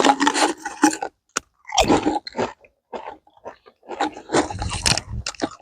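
Crunchy tree bark being bitten and chewed in the Belize jungle, with close, dry crackling bursts in several bouts separated by short pauses, and no talk over it.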